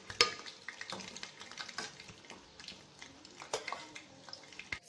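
Eggplant (brinjal) pieces fry in oil in a pan, giving a soft, continuous sizzle broken by scraping, clattering stirs. It is fairly faint and close, with no talking.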